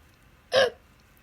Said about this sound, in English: He's got hiccups.